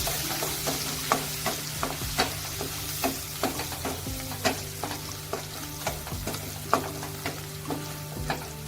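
Spice tempering with turmeric, coriander leaves and curry leaves sizzles in a pan for a traditional taro-leaf curry, a soft steady fry broken by regular scraping stirs and small clinks of a spoon against metal.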